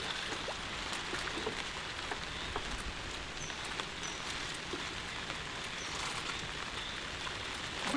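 Steady rain falls near a river where crab traps are being readied, a dense even patter of drops on surfaces throughout, with no voices.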